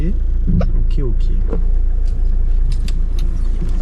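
4x4 off-road vehicle reversing on a rough track, its engine a loud steady low rumble with rattles and clunks on top, while someone speaks in French throughout.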